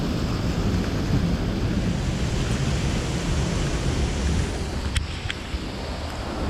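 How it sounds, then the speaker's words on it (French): Waterfalls on an amusement park water ride rush in a constant broad wash of splashing water, loud and close, with wind buffeting the microphone and a few brief clicks near the end. "Il y a les cascades là."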